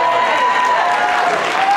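Audience applauding a Lisa Trevor cosplayer at a Resident Evil cast panel, a steady dense wash of clapping filling the hall, with a held tone running beneath it.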